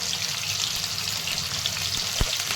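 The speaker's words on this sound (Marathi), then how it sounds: "पनीर आहे ना मी थोडासा फ्राय करून घेणार आहे" Salted paneer shallow frying in a pan, a dense, continuous close sizzle and crackle with no speech over it.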